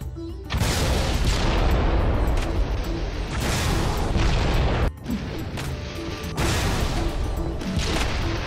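Loud rocket explosions in the Halo video game, a heavy booming blast with crashing debris, then a brief gap followed by a second big explosion, dense and close.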